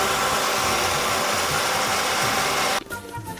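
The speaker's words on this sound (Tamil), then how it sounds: "இப்போ இதை அரைச்சிக்கலாம்." A mixer grinder blends a Boost shake with homemade ice cream, a loud steady whirring roar that runs for nearly three seconds and then cuts off abruptly, leaving a fainter rattling wind-down.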